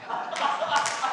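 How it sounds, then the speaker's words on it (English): A round of applause for a public commenter at a city council meeting, a brief burst of dense clapping from a small room crowd, close and steady, with voices mixed in. "Everyone needs to give you a round of applause."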